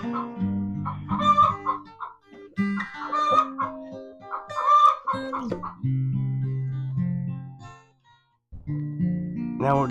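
Chickens cluck and squawk close by, with an agitated hen giving repeated loud, harsh calls in uneven bursts and a short pause near the end.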